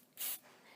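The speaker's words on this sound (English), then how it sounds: "You can use a little bit of cooking spray there, and make sure that it's greased." Butter-flavored cooking spray greasing a pan: a short, bright hiss of aerosol, then a pause and the start of a second burst, close and clear.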